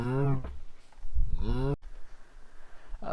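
Cattle mooing in the video game Minecraft, a couple of drawn-out lowing calls in quick succession, close and fairly loud, followed by quieter game ambience with no talk.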